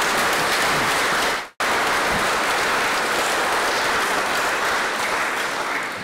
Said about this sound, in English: Can we all join together and give them one huge round of applause?